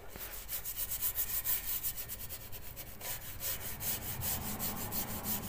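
Oil being rubbed by hand onto wooden folding loft stairs with a handrail, a steady close scrubbing and wiping of cloth on wood with repeated back-and-forth strokes, no voices.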